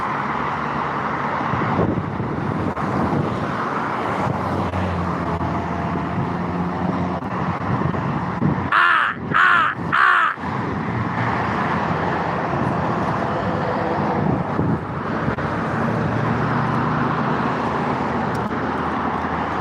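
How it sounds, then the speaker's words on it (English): Crows cawing as they fly in, a few harsh calls around the 9–10 second mark rising over steady traffic and wind noise by a roadside. "I see one of my crow buddies coming in."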